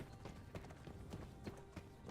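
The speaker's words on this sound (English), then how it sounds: "It looks like this poor horse is struggling." Steady clip-clop of horse hooves in a video game, a caravan horse trudging along in a continuous muffled rhythm under a busy low background.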